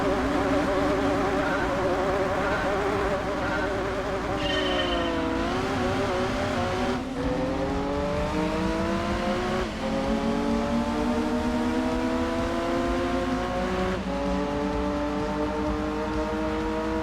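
Race car engine in Gran Turismo 2 on the Seattle Short Circuit: a loud, steady high-pitched whine that climbs with each gear, drops sharply at shifts and rises again, continuous and close throughout.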